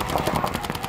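Paintball markers firing in rapid, dense bursts during a tournament match between Stoned Assassins and Maxim, with a player working the trigger; the shots crackle close and loud with no talk.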